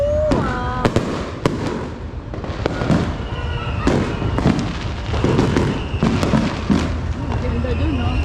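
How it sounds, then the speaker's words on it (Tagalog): Neighbours' New Year fireworks bursting repeatedly with sharp cracks and booms, some near and loud, others in the distance, while people talk and cheer excitedly throughout. "yung kapitbahay namin, maraming paputok."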